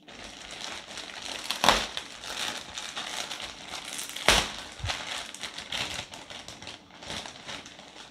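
Plastic packaging around a batch of cotton yarn is pulled open with close, loud crinkling and crumpling, several sharp rustling bursts and softer handling between them.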